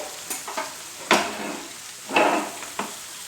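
Ayala fish fry in hot oil in a pan, a faint steady sizzle broken by a few sharp crackles and spatters as the pieces are turned and stirred.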